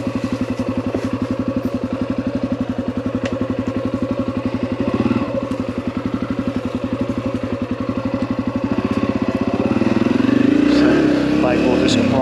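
An off-road motorcycle on the Buckhorn OHV trail chugs at a slow crawl with a rapid, regular engine pulse close by, then revs up louder near the end.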